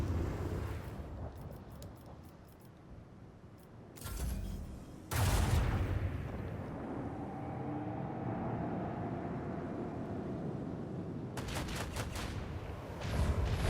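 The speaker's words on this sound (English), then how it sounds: "I want to hear the macro cannons roar." Macro cannons firing on a starship in the Rogue Trader video game, heavy booming volleys in clusters, with a loud sustained roar of rumbling barrage in the middle.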